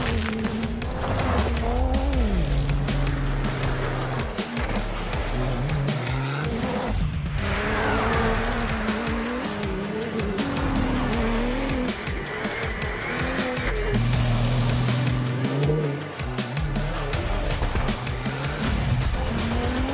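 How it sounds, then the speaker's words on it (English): A Ford Performance Ranger races off-road through the desert at the Dakar Rally. Its engine roars loud and close, revving up and down through gear changes, with tire noise and skidding throughout and no talk. "Ford Performance Ranger is racing at the Dakar Rally"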